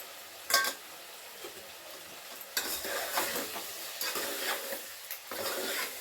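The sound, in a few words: cucumber and tomato pieces cooking in oil in a pan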